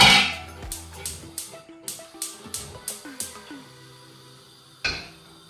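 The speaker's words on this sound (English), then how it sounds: "So let's get the callaloo pot on the fire." Pots and metal cookware handled at a kitchen stove while preparing Jamaican callaloo, a quick run of about ten sharp clinks and clanks, followed by quieter ringing tones and one last knock near the end.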